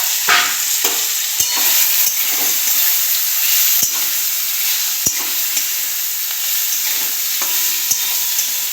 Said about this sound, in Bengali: এবার আমি ডাঁটা সেদ্ধটা দিয়ে দিচ্ছি।